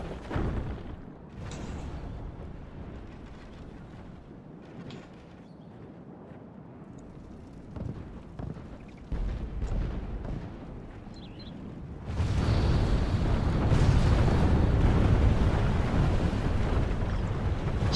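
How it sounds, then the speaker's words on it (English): Siege artillery in Medieval II: Total War pounds the stone walls and towers of a Northern European fortress, a rumbling wash of distant impacts and crumbling masonry that swells into a sustained roaring barrage in the second half. "No, my artillery is hitting this wall, and the French artillery is hitting this tower."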